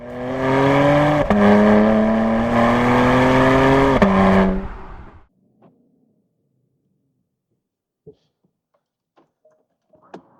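Porsche Panamera 4S E-Hybrid with quad exhaust, a somewhat muffled engine note rising in two revving pulls for about five seconds, then silence with a few faint clicks.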